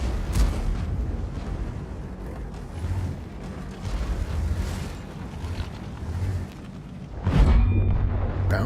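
A tank gun in a tank battle game on the Paris map fires one heavy, booming shot near the end, set against continuous low engine rumble and distant battle noise, with no voices.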